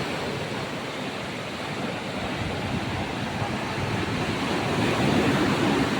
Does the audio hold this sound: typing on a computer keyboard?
no